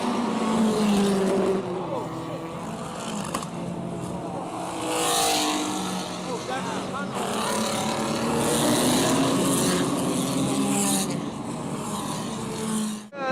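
Race cars roar and rev at high speed during a crash at the start of a race, with continuous loud engine noise under a commentator's voice.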